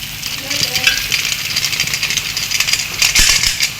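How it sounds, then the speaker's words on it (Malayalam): Beef fries in a pan and is stirred. A spoon clatters and scrapes against the metal over a steady sizzle, close by, with a few sharper knocks. "നന്നായിട്ട് ഇളക്കി കൊടുക്കാം എല്ലാ ഭാഗത്തും"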